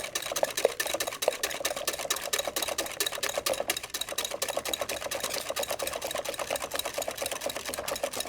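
Sugar and eggs beaten by hand in a bowl for a French flan pâtissier, a fast, steady, continuous rhythm of whisk strokes scraping and clicking, close and fairly loud, with no talking.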